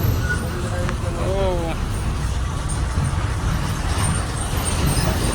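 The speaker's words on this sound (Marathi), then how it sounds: "निघाली गाडी" A bus on the journey from Mumbai to a Konkan village pulls away and keeps driving, with a continuous low engine rumble and road noise. Passengers talk over the sound.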